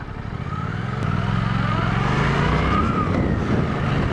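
Suzuki GSX-8S motorcycle engine pulling hard under acceleration with quick-shifter gear changes, a loud, steady close-up drone that rises in pitch and stays full throughout.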